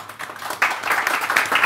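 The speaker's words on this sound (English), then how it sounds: "I'd like to invite you to join me in a round of applause for the panelists" Conference attendees at a panel session on sustainable investment and the WTO applaud the panelists; the clapping starts softly, then swells into a steady, moderate round that continues to the end.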